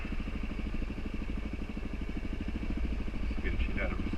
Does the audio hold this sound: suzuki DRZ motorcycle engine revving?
yes